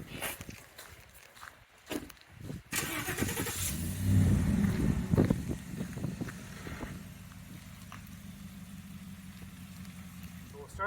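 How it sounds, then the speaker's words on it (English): A pickup truck reverses beneath a 2023 Scout Kenai truck camper: a few footsteps and door clunks, then the engine rumbles up and settles into a steady low idle as the truck creeps back. "I'm going to back it underneath the camper right now"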